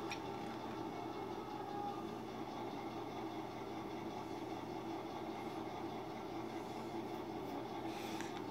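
Model train cars being shoved along the track rumble and hum steadily with a low mechanical drone and faint metallic rattle, no voices.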